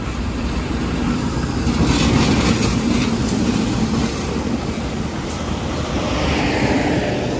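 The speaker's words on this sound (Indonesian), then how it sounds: "ini ada komuter lain dari arah barat, dari Kiara Condong masuk stasiun Gede Bage" A commuter train pulls into Gedebage station from the west, a steady broad rumble and rolling noise from a moderate distance that swells slightly and persists throughout.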